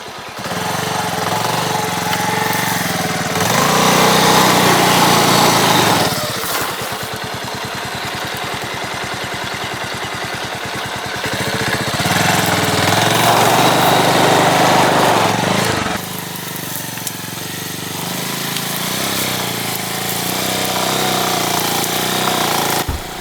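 A Bajaj Avenger motorcycle engine riding uphill off-road drones loudly and steadily close to the microphone, its pitch rising and falling as the throttle surges and eases in several long waves, with no voices.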